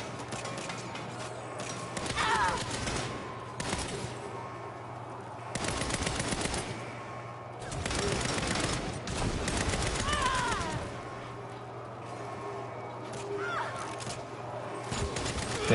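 Video game gunfire comes in repeated bursts of rapid shots, loud and mid-distance, separated by quieter gaps, with a steady low hum beneath the exchange.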